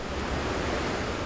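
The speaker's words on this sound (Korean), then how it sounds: "천둥 같은 소리에 이끌려 폭포 앞으로 다가간" Hukou Waterfall on the Yellow River roars in a steady, dense wash of rushing water, loud and continuous with no talk.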